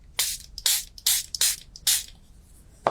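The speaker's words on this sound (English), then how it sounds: "I think I'll spray this bit" Craft spray hisses onto an embossed card in five quick, close, even bursts, each about a quarter-second long, then stops.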